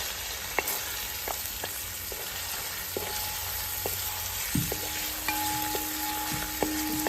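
Fish with ginger and green chili stirred in a hot pan, giving a continuous low frying hiss with occasional light clinks and scrapes and no talking.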